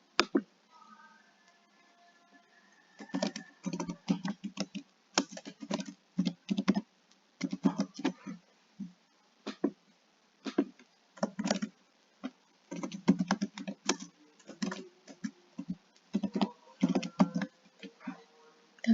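Bursts of typing on a computer keyboard while an email address is entered, irregular clusters of quick close key clicks with short pauses between them, alongside a brief soft tone early on.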